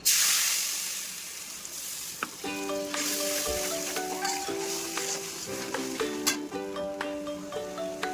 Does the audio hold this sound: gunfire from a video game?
no